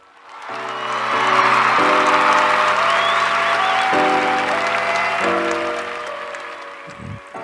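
An audience claps in a sustained round of applause that swells quickly and then slowly fades, with steady music chords playing underneath.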